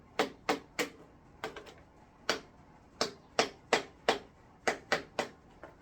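A series of sharp, hollow knocks as a durian is tapped to check ripeness, about fifteen taps in uneven groups, close up, with no talking.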